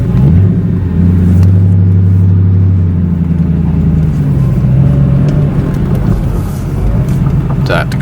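A car engine rumbles low and steady up close as the car is moved a short distance out of the way, idling and then rising slightly as it creeps forward.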